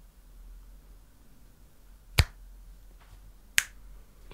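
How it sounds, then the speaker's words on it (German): Two sharp finger snaps, well spaced apart, stand out clearly against a quiet background with no talking. "Du musst auch einmal schnippen."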